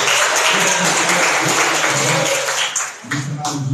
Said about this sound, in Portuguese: Palmas bem alegres para Jesus.